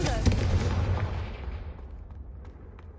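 A Confringo blasting spell from the game Hogwarts Legacy goes off in a loud, booming burst that rolls out and slowly fades over a few seconds, with a faint voice near the start.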